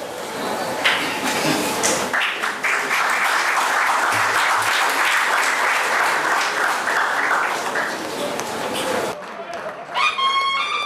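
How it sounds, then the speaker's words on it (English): Loud, sustained applause from an audience at a ceremony honouring a professor's fifty years of teaching, a dense wash of clapping that fills most of the clip before thinning out near the end. "big round of applause"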